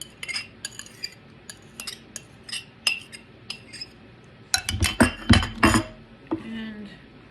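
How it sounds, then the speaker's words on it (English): Spoon scraping chopped guacamole ingredients and lime juice from a smaller bowl into a big bowl, a run of clinks and scrapes that grows louder and busier toward the end. "So we're gonna scrape this all into the big bowl"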